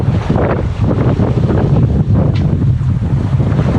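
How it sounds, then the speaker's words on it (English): Loud wind buffeting the microphone with rushing waves around a sailboat in about force 4 breeze and small whitecaps, reefed foresail and main, a constant close roar. "A few little white caps out and about, probably wind strength 4 I suppose, Beaufort"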